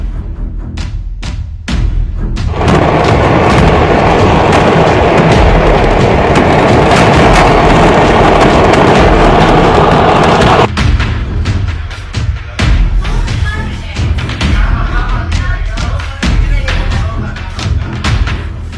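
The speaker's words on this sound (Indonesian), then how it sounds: "Letupan pabrik kembang api di Meksiko." Fireworks factory explosion in Mexico, heard as a long, loud roaring blast-like rumble lasting several seconds, followed by rapid crackling pops and bangs from bursting fireworks.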